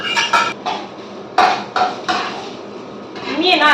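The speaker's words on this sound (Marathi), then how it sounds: "आता मी हे चांगले ड्राय होईपर्यंत परतून घेते" Soybean paratha mixture sautéed dry in a pan, with a utensil scraping and clattering against the metal in several loud bursts and a steady background hiss between strokes.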